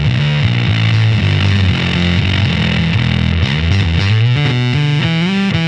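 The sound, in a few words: Brass Fuzz Germanium pedal in overdrive, input gain lowered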